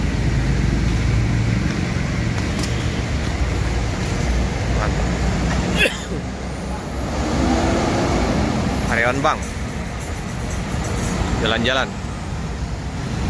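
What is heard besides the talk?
tour buses departing from a bus station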